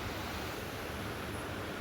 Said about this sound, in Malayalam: നല്ല വെള്ളം പതഞ്ഞ് ഒഴുകുകയാണ്.